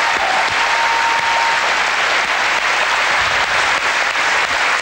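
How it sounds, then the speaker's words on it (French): Dense, loud applause from a television studio audience greeting a costumed character, continuous close clapping that holds at an even level from start to finish. "Applaudissements pour ce personnage, déjà, mesdames et messieurs"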